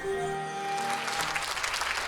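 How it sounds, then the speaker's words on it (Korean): Audience cheering and applause rise after a ballet performance by a ballet company with an acoustic ensemble, building from sustained instrumental tones into a dense, loud wash of clapping that fills the stage hall. "관객들의 환호가 이어진다"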